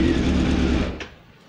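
A warmed-up 2017 carbureted Honda Hornet 600 engine runs loud and close with a buzzy, rapid note, then abruptly drops away about two-thirds through, leaving only faint residual sound.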